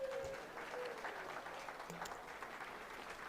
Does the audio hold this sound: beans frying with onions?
no